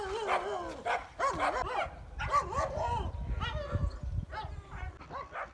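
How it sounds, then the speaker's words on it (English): Several dogs bark and yelp near a roadside, giving a chaotic run of overlapping barks, yips and whimpering cries, loud and continuous over about five seconds. "And the dogs are barking."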